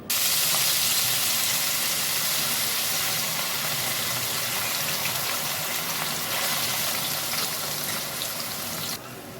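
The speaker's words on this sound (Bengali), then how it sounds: "ভিজিয়ে রাখা এবার গোবিন্দভোগ চালগুলো দিয়ে দিচ্ছি" Soaked Gobindobhog rice tipped into a hot pan with bay leaf, cardamom, cloves, cinnamon and fried chillies, giving a loud, steady hiss and sizzle that holds evenly and cuts off abruptly near the end, no voices.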